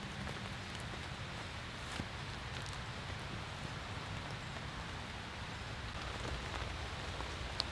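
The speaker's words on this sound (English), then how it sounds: "it is now raining again substantially" Steady rain falls on a one-person military tent, a dense, even patter of drops with no voices and no breaks.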